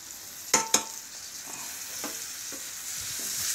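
Onion and tomato sautéing in a pan for a Maharashtrian potato bhaji, with a steady close sizzle, two sharp spoon clatters near the start and softer stirring scrapes through the rest.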